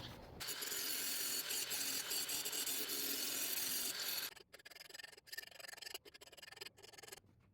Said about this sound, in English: now I'm going to go ahead and grind the other side